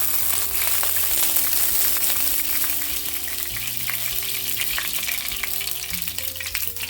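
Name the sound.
mustard seeds spluttering in hot oil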